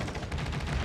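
Naval anti-aircraft defensive fire in a warship battle game, heard as a quiet, muffled stream of rapid flak bursts rumbling steadily through a short stretch.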